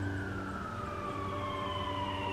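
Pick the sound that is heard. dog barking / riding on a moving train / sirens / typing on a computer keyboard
sirens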